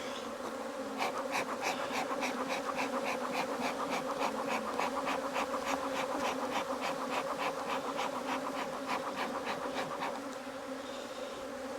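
Honey bees swarm and buzz loudly around an opened hive during a Formic Pro strip treatment, a dense, agitated drone holding steady for about ten seconds before easing slightly.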